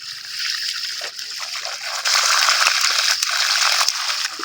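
River water splashing and trickling close by, a steady broadband wash with brief louder splashes, heard alone without talk.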